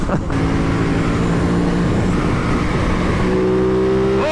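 A 2021 Aprilia RS660 on standard exhaust cans revs hard while being ridden, a loud continuous engine roar that climbs and falls in pitch, with no speech over it.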